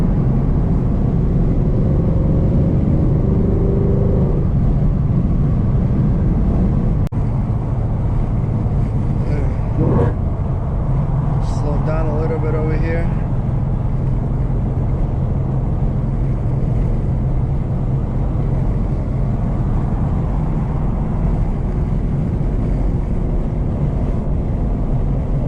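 A 2018 Ford Mustang GT cruising in third gear, steady low engine drone mixed with heavy wind rush through an open window, loud and continuous throughout, with brief indistinct voice-like tones partway.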